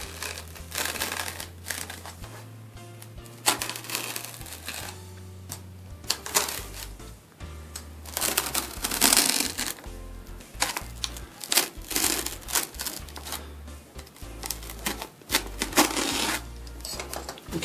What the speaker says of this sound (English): I'm going to peel a couple layers out this time